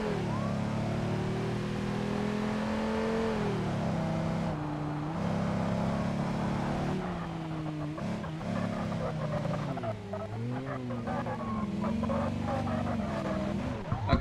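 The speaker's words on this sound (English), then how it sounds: "They're slow burnouts, but they're still burnouts" A video game car revs through slow burnouts, its engine tone rising and falling in wavering sweeps, with a voice talking over it.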